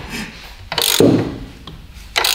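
A ratchet with a 24 mm socket working on a nut of a Lambretta LI 150 scooter, giving a few close, loud bursts of clicking and rubbing separated by short pauses.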